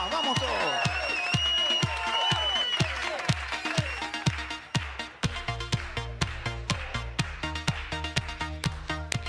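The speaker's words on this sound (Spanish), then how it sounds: "A ver esas palmas, vamos todos." A studio audience on Nacho Goano's television program claps in steady rhythm along with a band playing a cover song, the regular claps riding over the music at a close, even level.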